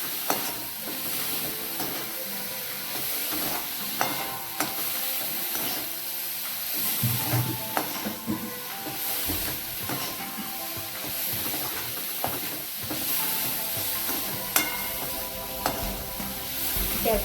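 Tempered green corn kernels sizzle and hiss in a pan on a low gas flame, with steady stirring scrapes and clicks running throughout, close and continuous.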